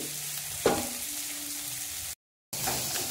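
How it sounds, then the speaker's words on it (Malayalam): Sliced onions and green chillies sautéing in a pan for onion sambar, a steady close sizzle with one brief stirring scrape, then a short silent gap before the frying resumes. "ഇതാ അപ്പം നമ്മൾ ഈ ഉള്ളി ഒരു 2-3 മിനിറ്റ് ഇങ്ങനെ വഴറ്റി ആ പച്ചമുളകൊക്കെ ഒന്ന് ഉള്ളിയുടെ പോകാൻ വേണ്ടിയിട്ടായിരുന്നു."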